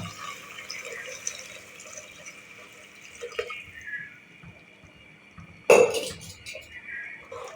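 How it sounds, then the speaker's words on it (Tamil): Soft kitchen clatter and a low hiss of liquid, then a sudden splashy rush of water poured from a copper pot into a mixer jar near the end. "ஒரு செம்பு தண்ணி ஊற்றிடலாம்."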